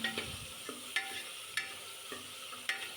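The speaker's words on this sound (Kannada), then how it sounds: "ಎಣ್ಣೆಯಲ್ಲಿ ಸ್ವಲ್ಪ ಫ್ರೈ ಮಾಡ್ಕೊಳ್ಳಿ ಚೆನ್ನಾಗಿ" Oil sizzles softly in a pan while a ladle scrapes and taps against it at regular intervals, about five sharp knocks over a quiet, steady hiss, close and faint.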